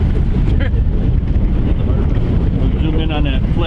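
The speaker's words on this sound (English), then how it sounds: "It's a little windy." Gusting wind buffets the microphone on open water during kayak fishing, a loud steady rumbling roar with splashy bursts, while a voice talks briefly underneath.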